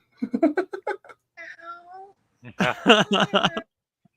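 A voice imitating a cat, with a run of quick mewing syllables, a drawn-out meow, then another excited burst of meows.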